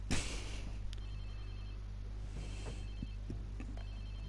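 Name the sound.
phone ringing in a video game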